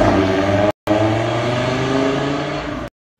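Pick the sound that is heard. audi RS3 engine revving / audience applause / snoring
audi RS3 engine revving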